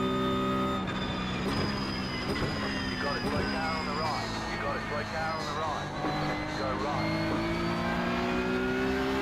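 Porsche sports cars run on the Nordschleife track, a continuous loud engine roar with rising and falling revs, heard from nearby over steady road and wind noise.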